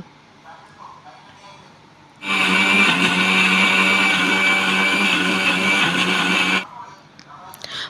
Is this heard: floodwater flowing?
no